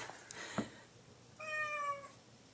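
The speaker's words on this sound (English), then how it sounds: "Hey, there's that cat." A cat gives a single drawn-out meow indoors, clear and fairly close but not loud, after a few faint scattered noises in an otherwise quiet room.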